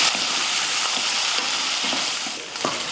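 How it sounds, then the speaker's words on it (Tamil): Small onions and curry leaves sauté in a hot pan, giving a steady close sizzle with faint stirring scrapes for a few seconds. "அடுத்து ஒரு நூற்றம்பது கிராம் அளவுக்கு சின்ன வெங்காயம் கருவேப்பில் சேர்த்து வதக்கிடுவோம்"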